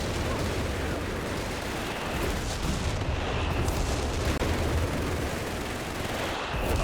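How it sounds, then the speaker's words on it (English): In Company of Heroes 3, Bishop self-propelled guns and base howitzers pound the battlefield with dense, continuous artillery fire, a loud rumbling barrage of overlapping blasts with no clear gaps. "partially bishop fire, partially base howitzers"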